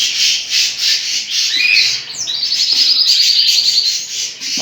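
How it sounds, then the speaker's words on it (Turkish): Pet canaries kept as a pair sing in a bright, continuous run of trills and chirps, with a rapid warbling stretch near the middle, close and fairly loud over a light rustle. "bu arada kanaryamız da iyi ötüyor"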